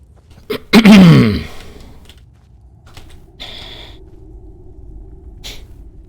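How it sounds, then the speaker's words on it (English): A single loud, close sneeze bursts out in the game Skyrim, followed by quiet rustling and faint background noise. "Oh man, I've got the sneezes today."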